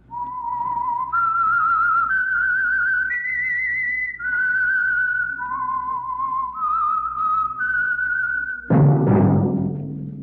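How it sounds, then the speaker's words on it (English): A clear, melodic whistled tune of held notes that step up and down, followed by a short burst of orchestral music, opening the old radio mystery program The Whistler. "That whistle is your signal for the Signal Oil Program"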